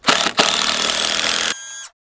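A power drill drives into a door, whirring at high speed in one loud continuous burst, then shifting pitch and winding down before stopping abruptly.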